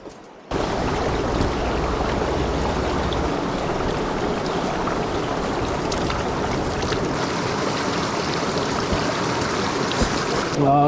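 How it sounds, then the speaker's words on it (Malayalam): Glacial meltwater rushes in a mountain stream near Sonamarg, a dense, steady roar of flowing water that stays loud and even from start to finish after a brief quieter moment at the beginning. "മുകളിൽ നിന്ന് ഐസ് മെൽട്ടായി വരുന്ന വെള്ളമാണ്."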